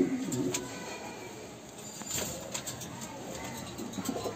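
A pair of running pigeons, one male and one female, coo with low, soft throaty calls that are loudest at the start and then continue faintly under a steady background hiss.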